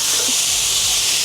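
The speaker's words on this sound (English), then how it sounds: "I've got a load of onion over there as well, which is always mightily satisfying when it's thrown in a skillet" A skillet of chopped onion sizzles with a steady, bright hiss that fills the short moment evenly and loudly, with nothing else heard over it.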